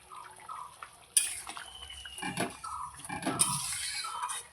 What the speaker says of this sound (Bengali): আমার তরকারি হয়ে গেছে আমি এখন তরকারিটা নামিয়ে নেব